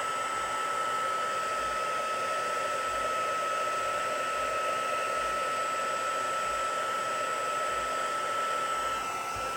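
A heat gun used for heat embossing on a stamped card blows with a steady, loud whir of hot air that runs without a break for about ten seconds.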